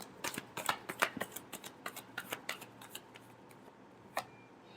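Tarot cards are shuffled in quick irregular bursts of crisp riffling and snapping, close and clear, slowing to a few final taps with no talk.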